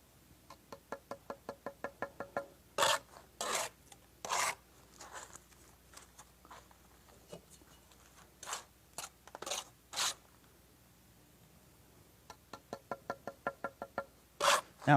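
A trowel scrapes mortar while bricks are laid, giving quick series of rhythmic taps and several longer rasping scrapes, close and fairly quiet with no voices.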